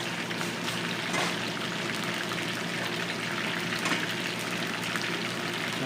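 Chicken kebab frying in oil in a home kitchen, a steady dense sizzle and crackle holding at an even level throughout with no talk.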